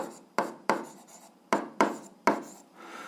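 A pen writes an algebra solution on paper with quick scratchy strokes. Several sharp stroke onsets land about every half second, close and fairly quiet, and no voice is heard.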